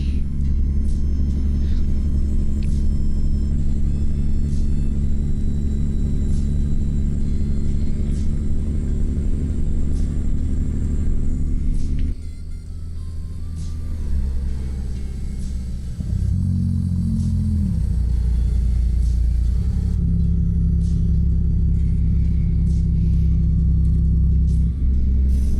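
A Peterbilt 389 glider truck with a CAT 3406B diesel in American Truck Simulator, hauling a lowboy, rumbles steadily and loud, with a deep droning engine, a brief dip and shifting tones midway, and no talking.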